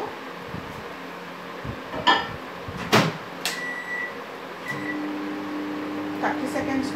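A microwave oven warms a small amount of milk: a few sharp clicks and door knocks, a short electronic beep, then a low steady running hum fills the rest.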